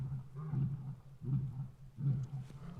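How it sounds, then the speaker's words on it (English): Lions roar in the wild-animal area, three deep, rhythmic pulses about a second apart, carrying strongly but at some distance, with no talking. "We got the lion singing."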